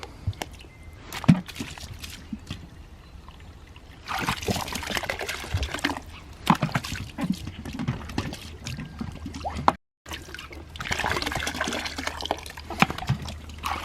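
Water sloshing, shaken and poured out while rinsing a recycled plastic bottle, in bursts of gurgling and splashing separated by quieter pauses, close by.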